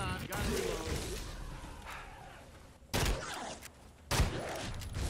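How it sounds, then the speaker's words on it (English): Gunfire at deadites in the Evil Dead video game: loud, sharp shot bursts cut through continuous game noise, with heavy blasts landing around the three-second and four-second marks. "I'm killing them with two bullets."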